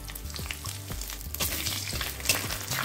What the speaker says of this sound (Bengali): ফোড়নটা 1 মিনিট ভেজে নিচ্ছি।